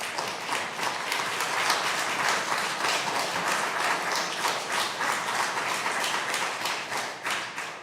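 Audience at a congressional hearing on spinal cord injury veterans clapping, dense steady applause from a crowd in a large room, sustained and moderately loud from start to finish.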